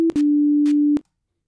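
An Arduino buzzer plays a tune created in a song-maker app: a steady electronic tone in short and sustained beeps, nearly a second long in the middle, loud and alone.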